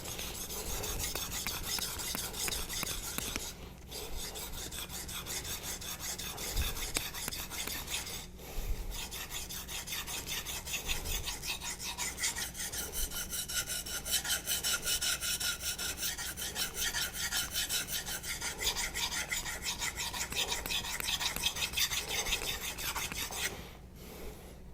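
Convex knife being sharpened on a Naniwa diamond whetstone: steady close rasping strokes of steel across the stone, running almost continuously with two brief pauses, no talking.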